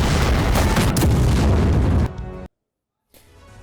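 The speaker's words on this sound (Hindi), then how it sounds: "खार्किव में भारी तबाही की सबसे बड़ी वजह है रूसी फैब ग्लाइड बम" A Russian FAB glide bomb exploding in Kharkiv, a loud, close, sustained roaring blast lasting about two seconds, then a sudden cut to silence and faint rumble.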